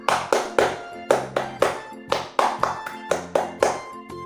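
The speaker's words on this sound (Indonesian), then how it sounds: "Tepuk Pramuka." Rhythmic Scout clap (Tepuk Pramuka) by a group of schoolchildren in a classroom, about a dozen crisp claps in a patterned beat, close and loud, with no talking over them.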